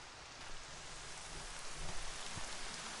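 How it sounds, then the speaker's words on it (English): Steady rain falls in the video game Horizon Zero Dawn, a dense even hiss of faint downpour with soft low rumbles beneath, no voices. "Everything's sharp and looming in the rain."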